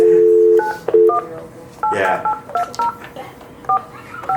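Touch-tone keypad beeps from a phone dialing into a teleconference service: a long tone followed by a quick irregular run of short dialing tones, loud and close, with brief voices talking in between.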